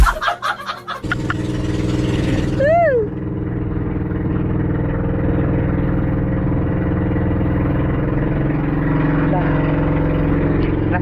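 A boat engine runs with a steady loud drone close by after a brief burst of voices, and a voice rises audibly over it for a moment; only one of the boat's engines is working.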